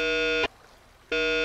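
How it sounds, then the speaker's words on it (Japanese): A bell at a bathhouse reception desk in a horror game sounds twice, loud, ringing and tonal, with a short gap of quiet between the strikes. "バンダイのベルの音行ってみよう"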